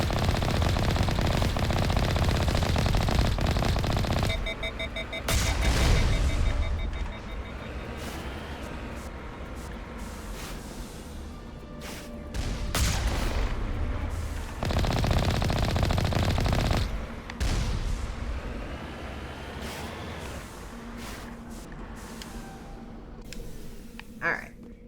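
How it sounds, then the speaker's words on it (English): Combat in the video game Mass Effect Legendary Edition as enemies fire rockets: loud, dense bursts of rapid gunfire and blasts come in waves, broken by short lulls and quieter stretches over about twenty-five seconds. "they are firing rockets at us"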